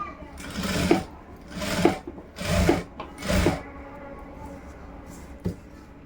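A sewing machine stitches around the neckline of a blouse, running in four short bursts that each last under a second, with pauses between them and a faint click near the end.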